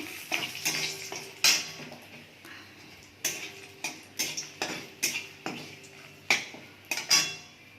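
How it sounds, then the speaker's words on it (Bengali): Dried red chillies and bay leaf are tempered in hot oil in a wok, heard as a series of sharp metallic scrapes and clinks from stirring in a fairly regular rhythm over a faint sizzle, with no talking. "শুকনো লঙ্কা ফোড়ন দিচ্ছি"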